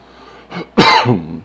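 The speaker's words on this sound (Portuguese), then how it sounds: "porque a tosse interrompeu aqui" One sharp, close cough, preceded by a softer catch of breath, loud and isolated with no talking.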